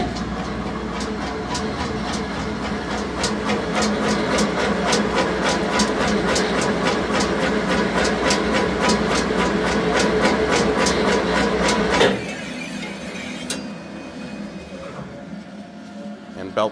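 A Treif Puma 700 EB portion slicer runs through meat with a fast, regular series of sharp slicing clicks over a mechanical hum, then the cutting stops abruptly and leaves a quieter whir.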